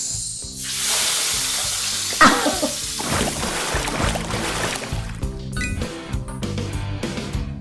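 Food hisses and sizzles loudly in hot oil, with a sharp burst as it goes in, over steady background music.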